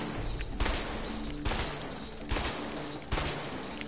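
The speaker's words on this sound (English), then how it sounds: "Okay, wait, stop shooting." Gunfire in the video game A Way Out comes as four heavy, evenly spaced bursts over a dense, steady background roar, loud and close, with no speech.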